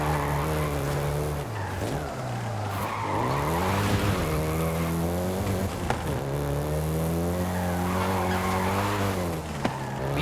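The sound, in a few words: Volkswagen Golf GTI driving in Forza Horizon 5 video game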